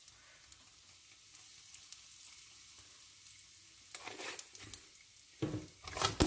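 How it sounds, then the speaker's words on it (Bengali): About a teaspoon of asafoetida goes into a spice tempering in hot oil: a quiet, faint simmer at first, then sudden loud bursts of sizzling and crackling that swell toward the end. "এবার ফোড়নটা জাস্ট একটু নাড়াচাড়া হয়ে গেলে এর মধ্যে দিয়ে দেবো হিং।"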